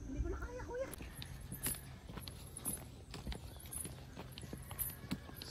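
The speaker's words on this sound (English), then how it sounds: "They got quite cute little horses here." Small horses walk along a rural path, their hooves clip-clopping in an uneven rhythm at moderate distance beneath faint background voices.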